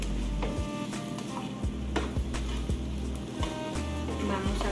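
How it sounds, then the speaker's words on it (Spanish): Bell peppers and onion sizzle steadily in a pan, with a continuous frying hiss and a few clinks and scrapes of stirring, close and fairly loud throughout. "mientras se van cociendo los pimientos y la cebolla"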